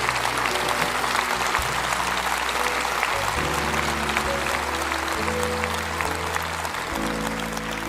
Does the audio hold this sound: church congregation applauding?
yes